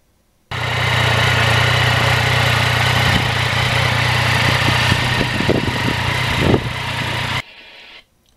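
A 2020 Yamaha MT-09 crossplane triple motorcycle runs steadily and loudly for about seven seconds with a constant engine drone, then cuts off abruptly and trails into quiet.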